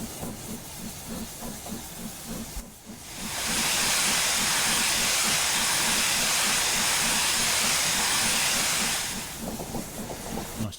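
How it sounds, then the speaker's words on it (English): Steam blasts from the open cylinder cocks of the Empire State Express 999 locomotive in Train Simulator Classic on the Boston and Albany line. A loud, sustained hiss swells up and fades away between rhythmic chuffing at the start and end. "Nice to see the steam coming from both ends of the cylinder when the cock's open."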